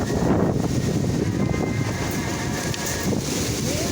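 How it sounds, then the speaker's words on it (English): Strong, gusty wind at a riverside walk buffets the microphone in a loud, continuous roar with no pauses. "it's like some kind of tornado or something"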